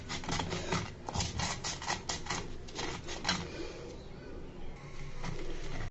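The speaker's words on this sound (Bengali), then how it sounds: "দেখতে পারতেছো ভিজানোর কারণে বাটনার মধ্যে সুন্দর করে বাটা হয়ে যাচ্ছে" Soaked mustard seeds are ground on a stone grinding slab, a rhythmic rasping scrape repeating in quick strokes close by, easing off toward the end.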